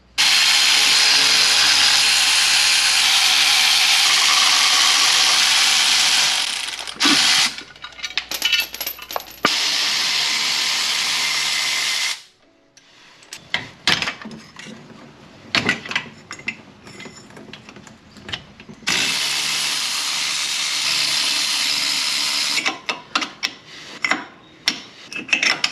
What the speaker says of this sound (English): let's pull the valve cover off, and then we can pull the nuts on the top, the rockers, the studs